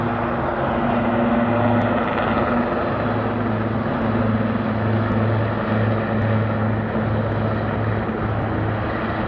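A helicopter passes overhead at a waterfront station, its steady engine drone and rotor hum holding loud and unbroken throughout, with no talk.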